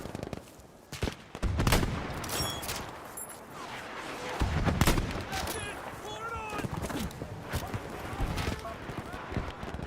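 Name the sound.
gunfire in the video game Battlefield 5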